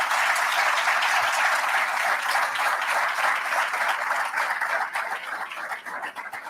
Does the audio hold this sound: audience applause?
yes